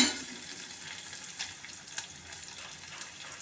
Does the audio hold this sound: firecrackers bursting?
no